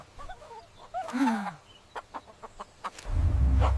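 Baby chicks in a cartoon cheep in quick high chirps near the start, followed by scattered soft taps and clicks and a low rumbling rush of sound at the end.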